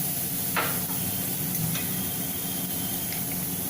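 Cumin and fenugreek seeds sizzle in hot oil, giving a steady, even hiss that fills the whole stretch, with only faint scattered crackles and no talk.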